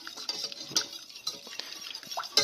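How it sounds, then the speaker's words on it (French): Béchamel sauce stirred vigorously in a pan, with a close, irregular run of metal utensil clinks and scrapes against the pan and no talk. "Et là, il ne faut pas hésiter à mélanger vigoureusement."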